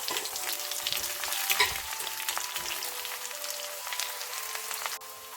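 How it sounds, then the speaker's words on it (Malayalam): Chopped shallots hit hot oil with popped mustard seeds for a pumpkin and toor dal curry, frying in a busy crackling sizzle that swells early and then settles, no one talking. "നമുക്കിതിലേക്ക് കുറച്ച് ചെറിയ ഉള്ളി അരിഞ്ഞത് കൂടി ഇട്ട് കൊടുക്കാം"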